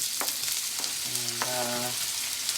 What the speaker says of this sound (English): Frying pan with oil and then the lovely sausage.